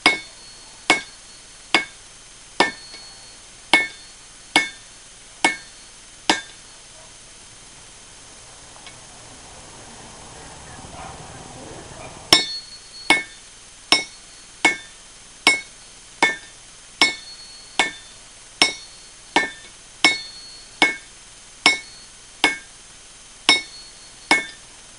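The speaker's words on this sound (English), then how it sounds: "Got a hell of a rebound this anvil does, that's for sure" Hammer blows ring sharply on steel over an anvil while forging a hardy tool, in two loud, evenly paced runs of metallic strikes separated by a short quieter pause of scraping and handling.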